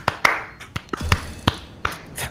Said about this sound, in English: Don't aggressively clap at me!